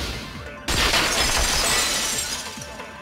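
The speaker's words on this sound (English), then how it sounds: "If it wasn't the window, then what broke to make that sound? A vase." A vase shatters in Danganronpa 2: a sudden loud crash of breaking ceramic after a brief quiet start, then a bright, scattering spray of fragments that rings on to the end.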